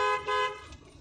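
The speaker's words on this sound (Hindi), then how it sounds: "full horn, long horn" A car horn blares in two close, loud blasts, the first longer, then fades out, sounded from inside a car on a narrow one-way road during a driving lesson.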